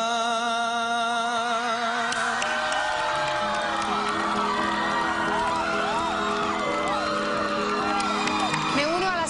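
A lively audience cheers, whoops and shouts amid clapping at a televised singing competition, the crowd noise building loud over music with voices rising and falling throughout.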